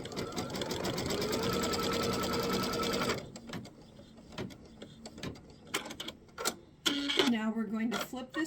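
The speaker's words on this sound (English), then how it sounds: "Now we're going to stitch that down." A sewing machine stitching down the corner of a quilt block, running steadily at first, then stopping into quieter handling noises and clicks, with a few brief pauses and some talk over the sound.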